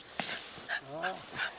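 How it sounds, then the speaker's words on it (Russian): A small dog whimpers and yips in a few short, high, wavering cries and a brief bark, close by, with a voice speaking nearby. "Собачка."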